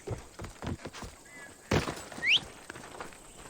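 A horse in the Assassin's Creed Odyssey video game, with a few soft hoof clops, a sharp thud, then a brief high whinny, all fairly faint.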